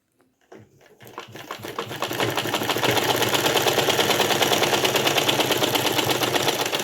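A sewing machine stitches the falls onto a saree, starting after a brief pause and settling into a steady, fast, continuous mechanical whir close by, with no talking.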